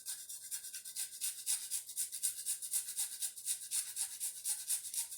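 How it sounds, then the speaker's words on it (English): About an inch of peeled fresh ginger is rubbed across a small grater in quick, even scraping strokes, roughly three per second. The sound is close and soft, with no talking. "So I'm grating it with a small grater."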